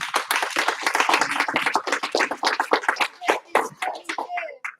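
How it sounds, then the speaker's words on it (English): A school class claps together in a rhythmic pattern as a classroom cheer. Many hands strike loud, close claps in quick bursts, and children's voices are mixed in with the clapping. "Give him 1 clap, 2 claps."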